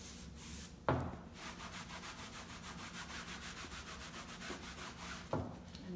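Cloth rubbing excess wax off fabric coated in chalk paint, giving a soft, steady, close rhythmic scrubbing with quick strokes and two sharper scuffs, no voices.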